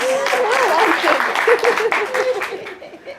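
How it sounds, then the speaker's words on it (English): Applause breaks out from a seminar audience at a motivational business talk, a dense wash of clapping running the whole moment with voices and cheering mixed in over it. "Give her a round of applause."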